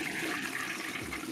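A toilet flush sound effect plays as a steady rushing swirl of water, fairly faint and continuous throughout, with no talking over it.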